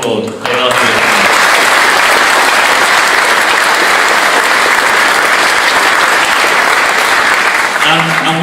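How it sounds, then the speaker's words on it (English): A conference audience at a UKIP South East gathering applauds loudly and continuously for several seconds, with a brief voice at the start and end. "to whom I'd like you to all applaud"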